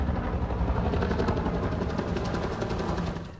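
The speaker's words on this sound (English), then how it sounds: "The fully restored Huey helicopter taking to the skies over San Jose." A fully restored Vietnam-era Bell UH-1 Huey helicopter flies overhead at a San Jose remembrance event, its steady rotor thump and engine roar loud and continuous throughout, with no voices.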